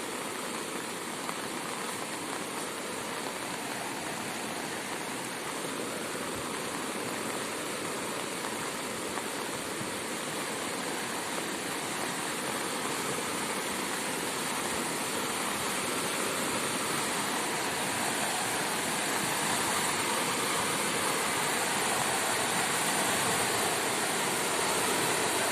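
Floodwaters of Dogura Creek rush steadily near Port Moresby, a loud continuous broadband roar that fills the whole span with no voices over it.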